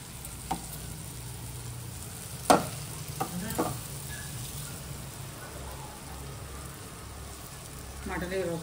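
Mutton liver fries in a pan, a steady sizzle with occasional scraping stir strokes and a few sharp clinks of the spatula against the pan, with faint low background hum.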